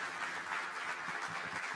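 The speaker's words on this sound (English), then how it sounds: "please give a round of applause for the guest of honor" Audience applause for a guest of honor at a digital sovereignty conference, a steady wash of clapping filling the room at moderate level with no voices over it.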